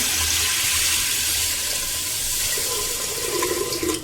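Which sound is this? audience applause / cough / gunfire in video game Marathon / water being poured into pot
water being poured into pot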